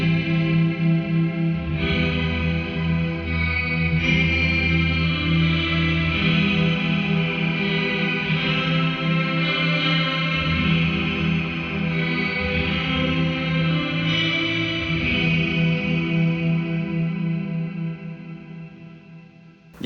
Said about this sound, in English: Level's on full, so you're only going to hear the tail of the reverb.